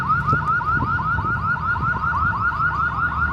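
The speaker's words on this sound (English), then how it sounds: "Little car alarm." A car alarm in downtown Scottsdale, Arizona, at night whoops in rapid, rising repeated sweeps, loud and continuous, over low background rumble.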